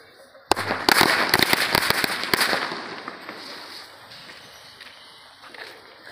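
A string of small bijli bomb firecrackers goes off in a loud, rapid run of sharp bangs and crackles lasting about two seconds, then fades into quieter outdoor background noise.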